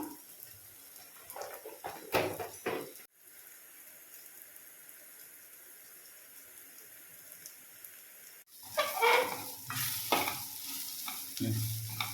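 Vada curry with a pinch of Kashmiri chili powder is stirred in a pan: a burst of close scraping and sloshing, a quieter simmering pause, then several seconds of louder mixing.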